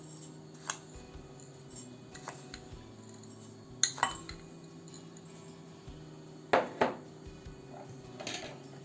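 Four tablespoons of tarhana are spooned into a whisking bowl, with light metal spoon clinks and taps against the bowl, a few sharper knocks standing out over a steady low hum, no voices.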